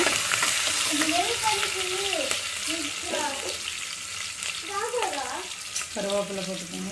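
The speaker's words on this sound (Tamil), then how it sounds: "இஞ்சி பூண்டு நல்லா மிக்ஸ் பண்ணிக்கலாங்க" Ginger and garlic fry in a pan with bay leaf and star anise for cowpea rice, a steady sizzle with stirring scrapes while a voice talks intermittently over it.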